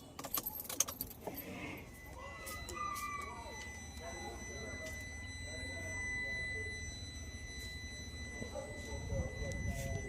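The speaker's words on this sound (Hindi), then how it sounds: "देखिए बंद करने के बाद भी ये बीप की साउंड" A Tata Punch car, switched off, keeps giving a steady high electronic beep tone. Keys jangle briefly at the start, and someone talks over the sound.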